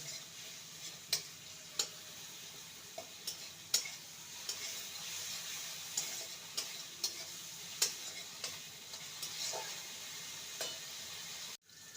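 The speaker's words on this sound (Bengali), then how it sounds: "ভালো করে মশলাটাকে কষিয়ে নেব" A thick masala paste cooks in a pan with a little water and chilli, giving a faint steady sizzle under repeated sharp ticks and scrapes of a spatula stirring it, with no talking.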